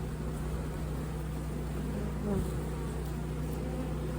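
Honeybees hum from an opened hive during an inspection, a steady close drone of many wings with a low mechanical hum beneath it and a brief louder rise partway through.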